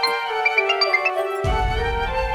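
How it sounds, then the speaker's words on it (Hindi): Phone ringtone rings with a bright, repeating melodic tone, loud and close; partway through, low rumbling background sound joins beneath it. "फोन आ गया।"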